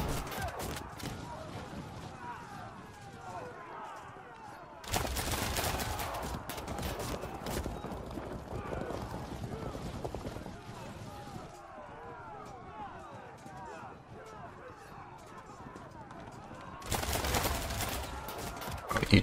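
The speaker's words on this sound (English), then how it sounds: "Lovely little full volley of cannon." Cannon volleys firing in the medieval strategy game Field of Glory Medieval, sharp loud broadband blasts bursting out at two points, each followed by rumbling battle noise, with someone talking throughout.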